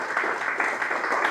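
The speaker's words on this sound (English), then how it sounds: "So let's give a big round of applause for Enrique Casolla." Audience applause at a comedy roast: a dense, even wash of clapping from a crowd, fairly loud and close, sustained through the brief moment with no talk over it.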